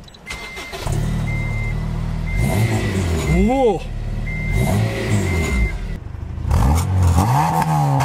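A Honda Integra Type R DC5 with its VTEC engine running loud and close, rising in several sharp rev bursts over a steady drone, while a voice briefly exclaims.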